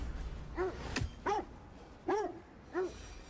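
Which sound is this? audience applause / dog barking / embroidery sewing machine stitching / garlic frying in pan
dog barking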